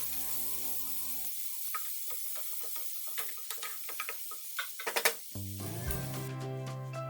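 Onions sautéing with salt in a pan make a quiet sizzle with a run of light clicking stirs and taps, framed by stretches of steady tonal background music.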